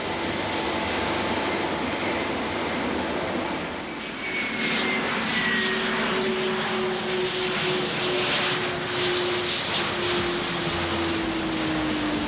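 Fixed-wing airplane in steady level flight at 10,000 feet, a constant loud engine and propeller drone that fills the whole stretch with a faint rising tone gliding across it.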